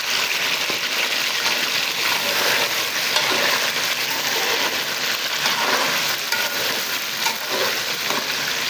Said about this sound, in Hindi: चिकन को भी अच्छे से फ्राई कर लेंगे।